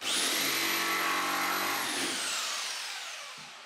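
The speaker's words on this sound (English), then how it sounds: "A good idea is to start a little bit further back, just to see what the jigsaw is doing" Jigsaw cutting through a laminate kitchen worktop, a loud close whining buzz with a high motor tone that runs steadily, then winds down and fades as the saw stops.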